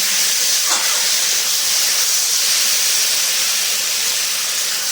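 Boiled mixed vegetables being stir-fried in a hot pan for a shrimp ghonto: a loud, continuous, close sizzle that stays even throughout, with no voices.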